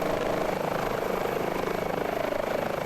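An H145 helicopter in Microsoft Flight Simulator gives a steady rotor thump and turbine whine, loud and continuous with an even rhythmic pulse and no voices.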